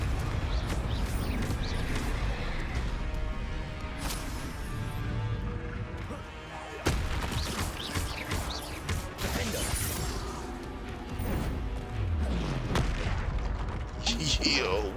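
Confringo fire-blast spells erupt in Hogwarts Legacy combat, dense crashing bursts and booms layered over constant game music and effects, with a sharp loud blast near the middle and talk mixed in.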